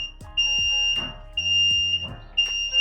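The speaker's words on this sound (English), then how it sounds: "Oh, that beeping's not annoying at all, is it?" A Lift Giant LGX35 car lift gives off its warning alarm while lowering, a loud, high, steady beep repeating in long pulses over faint mechanical clunks.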